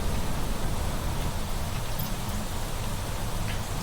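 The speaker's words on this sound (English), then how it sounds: "do like the rain. It's a little bit noisy though." Video game rain falls in a dense, constant hiss with a soft low rumble, steady and fairly loud with no talking over it.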